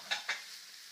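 Onions, garlic, celery and peppers fried in a pan give two quick, soft scraping strokes of stirring over a faint background sizzle, then quiet frying.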